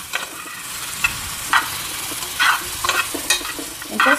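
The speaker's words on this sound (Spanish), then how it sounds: "Entonces sofreímos nuestras verduras, nuestros chiles, nuestras cebollitas." Chopped vegetables, chiles and onions with whole garlic sizzle steadily in a frying pan, with periodic scraping stirs breaking through the hiss.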